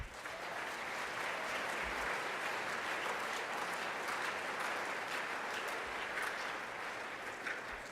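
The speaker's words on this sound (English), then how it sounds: "we owe them a round of applause as a thank you" Sustained applause from a large crowd, steady and loud throughout, with dense clapping and no pauses.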